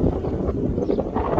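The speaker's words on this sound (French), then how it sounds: "je vous laisse parce qu'il y a du vent là" Wind buffets the microphone outdoors near Hauterives, producing a loud, continuous low rumble with uneven gusty swells throughout.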